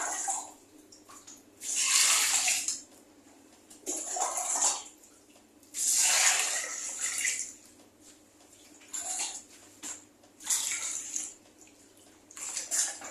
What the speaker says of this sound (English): So I'm going to add ordinary water to it.